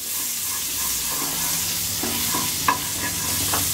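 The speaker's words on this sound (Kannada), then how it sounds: "ಇವಾಗ ನೋಡಿ ಬೆಣ್ಣೆ ಕರಗಿದ ತಕ್ಷಣ ನಾವು ಈರುಳ್ಳಿ ಹಾಕೋಣ" Butter melts and fries in a pan for a pudina chicken dish, making a steady close sizzling hiss with a few soft clinks and scrapes and no talking.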